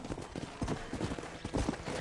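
Horse hooves clip-clopping in the Red Dead Redemption video game, a steady rhythmic trot of hoofbeats heard close and fairly faint, with no talking over them.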